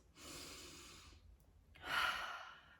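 A single slow, deep breath: a long audible inhale, a brief pause, then a fuller, louder exhale that trails off, close and alone against quiet.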